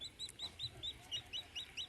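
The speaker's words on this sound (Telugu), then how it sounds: "అది ఎలుకల బోనులో ఎలుకలు ఉండాలి కానీ కోడిపిల్ల ఉంది." A baby chick shut inside a rat cage peeps in a quick series of about ten short, high chirps, faint and fairly close, with no talking.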